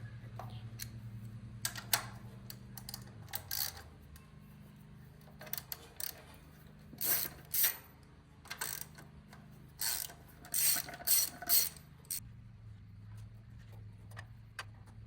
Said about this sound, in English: we're just going to take the valve cover off. It's just these two nuts right here.